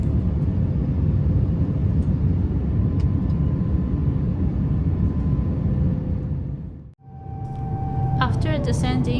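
Steady, loud broadband roar fills a Cathay Pacific airliner cabin on descent from Fukuoka toward Hong Kong, briefly dipping near the end before a faint chime-like tone sounds over the constant engine and air noise.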